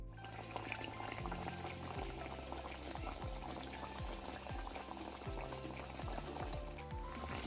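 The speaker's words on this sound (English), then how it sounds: "So now we're gonna fry it." Saltfish fritter batter deep fries in hot oil as a dense, continuous bubbling sizzle that stays even and fairly quiet throughout, with a few low gurgling pulses and no speech.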